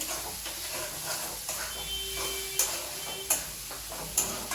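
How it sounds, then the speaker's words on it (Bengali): Potatoes stir-fry in a cooked-down spice masala, giving a soft continuous sizzle with occasional sharp spoon-scrape clicks against the pan, and no talking. "মশলাটা কষা কষা হয়ে গেছে এবার আলু দিলাম আলুটা দিয়ে নাড়াচাড়া করবো"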